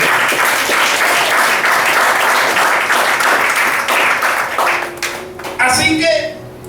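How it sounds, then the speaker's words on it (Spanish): A church congregation applauds, a dense, loud wash of clapping that carries on for several seconds before thinning out, with voices mixed in near the end. "Dale un aplauso."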